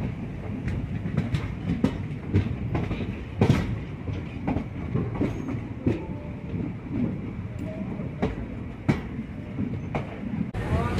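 The 11098 Poorna Express runs along the rails with a steady rumble, sharp wheel clicks over the joints, and a faint screech now and then, heard from close by.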